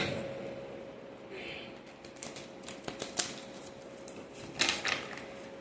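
Soft papery riffling and scattered light taps of tarot cards being shuffled, with a few sharper slaps near the end, over a faint steady hum.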